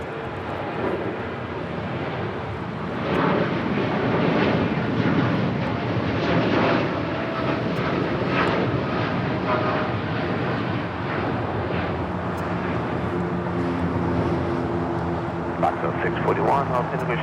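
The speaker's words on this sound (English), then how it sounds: "the Lufthansa A350-900 coming in from Munich, about to land on the north side." Lufthansa Airbus A350-900 on approach to Los Angeles International Airport from Munich, landing on the north side: a sustained broadband jet rumble, moderately loud and steady, with a person talking over much of it.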